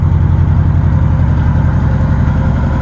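A 1977 Pontiac LeMans engine with dual exhaust pipes runs steadily at idle, a deep, loud, continuous low rumble with an even pulsing beat, close by and alone.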